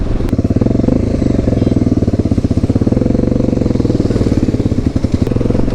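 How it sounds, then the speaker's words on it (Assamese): A motorcycle with its exhaust opened up runs at speed on an open road, its loud, rapid-firing engine pulse steady and close for the whole stretch, with no talking. "এই বাইকখন একদম ফুল স্পীড দিবৰ কাৰণে একদম খালী ৰাস্তা লাগিব"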